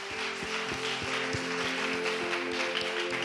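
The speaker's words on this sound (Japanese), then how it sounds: "神様に大きな拍手しましょう。" A crowd at a church worship service claps and cheers in a steady wash of applause, with sustained music tones and a rhythmic low beat running underneath.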